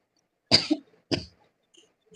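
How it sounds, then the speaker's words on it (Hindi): Two separate coughs, a sharp one followed by a shorter one about half a second later, close and fairly loud in an otherwise quiet room. "मेरे को खांसी आ रही है बहुत।"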